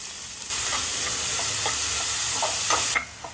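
Onions with green chilli and salt sauté in a hot pan for shark puttu, a steady close sizzle with occasional soft stirring scrapes, lasting a few seconds before cutting off.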